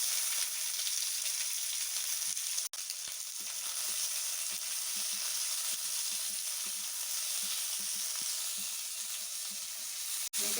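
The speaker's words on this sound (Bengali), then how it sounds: "আমি কিছু কুচানো পেঁয়াজ দিচ্ছি।" Chopped onions sizzling steadily in hot oil in a pan after whole spices (cardamom, cloves, cinnamon) have been fried, for a chicken liver kosha; a continuous close, loud fry hiss with no talking.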